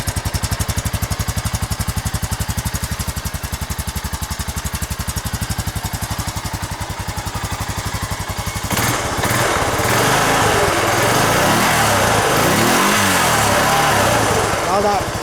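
A Honda Rancher ATV engine with an aftermarket welded-in quiet muffler, idling close by with a rapid, even putter, then rising to a louder, rougher run partway through, with valve noise from the motor.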